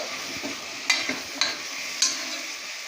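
Chopped bottle gourd sautés in a pan with a soft continuous sizzle, broken by a few sharp clinks and scrapes of a spoon stirring against the pan.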